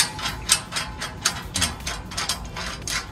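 Allen bolt being tightened on a solar panel mid clamp, a rapid series of close metallic ratcheting clicks in an uneven rhythm.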